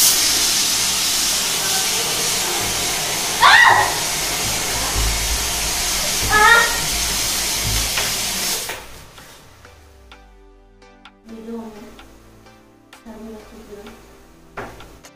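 A pressure cooker holding overfilled khichdi vents steam and water in a loud, steady hiss that lasts about nine seconds, then cuts off, leaving quieter kitchen clatter.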